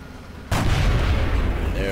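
A sniper rifle shot in XCOM: The Long War cracks out as a single loud blast, and its heavy rumbling tail rolls on to the end.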